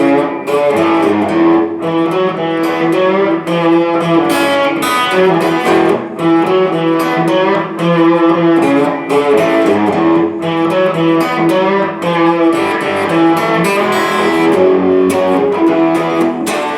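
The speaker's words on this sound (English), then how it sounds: "There's a couple little fills you can throw in playing the main riff." Distorted electric guitar plays a main riff with small fills added, a loud, driving, rhythmic figure repeating steadily for about seventeen seconds with brief gaps between phrases and no talking.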